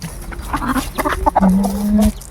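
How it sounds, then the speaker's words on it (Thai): Chickens cluck and murmur close by, with a sustained low squawk near the end, over light background noise. "ในคลิปไปซื้อไก่มาให้ซาฟอนเลี้ยง"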